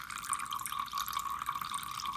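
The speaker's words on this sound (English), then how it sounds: "this is still kind of dripping down here" Water drips and trickles from a beauty blender mini washing machine, a close, continuous wet spattering with bright splashy texture and no voices.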